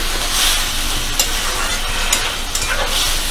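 Mixed dal khichdi ingredients stirred in a hot pan on a high flame, a steady sizzle with a few brief scraping strokes of the spoon.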